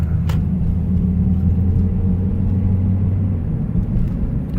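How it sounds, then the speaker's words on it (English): Steady low road rumble of cars driving past on a holiday evening, heard from inside a moving car, continuous and fairly loud with no talking. "A lot of cars on the road for it to be a holiday evening"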